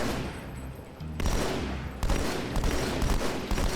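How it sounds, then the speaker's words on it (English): A battle rifle fires in Halo 2 as loud, close bursts of shots, with a clear burst near one second and another near two seconds, then a run of quick repeated shots toward the end. "Of how inaccurate the battle rifle can be."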